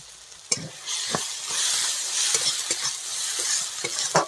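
Chilli, turmeric, cumin, coriander and garam masala powders fry with salt in a hot pan, a bright, close sizzle broken by sharp scrapes and taps of a stirring spoon.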